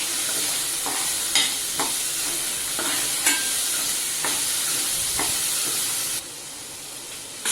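Fresh green peas are stirred into sautéed masala in a pan for aloo matar masale bhaat, a constant close sizzle punctuated by regular scraping strokes of a spoon, with no voices.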